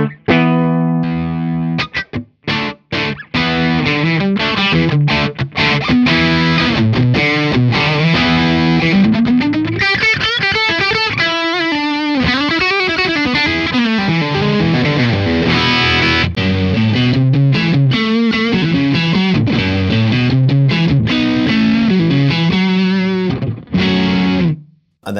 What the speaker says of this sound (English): a little bit more of a kind of modern, open, a little bit more aggressive sounding distortion pedal